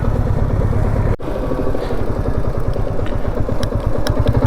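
A motorcycle ridden on a dangerous mountain road by railway lines near Sonada, a loud, close, steady thumping engine beat with rattling and wind rush, briefly dipping once.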